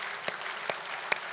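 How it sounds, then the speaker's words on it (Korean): A church congregation at a Korean Sunday Easter service claps briefly, a soft wash of hands with three distinct sharper claps spaced roughly half a second apart, fairly quiet and with no talk over it. "승리하신 우리 예수님께 박수하시겠습니다."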